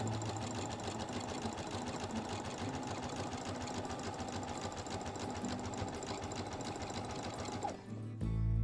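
Brother SE2000 sewing machine stitching ripped jeans with a narrow stitch, a fast, even mechanical whir running steadily and close before stopping abruptly near the end.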